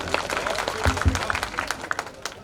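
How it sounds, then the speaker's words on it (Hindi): Audience applause at a Hindi poetry gathering (kavi sammelan), a scattered, moderately loud patter of hands that swells and thins over a couple of seconds in a reverberant hall. "एक बार तालियां बजा करके माहौल दे दीजिए।"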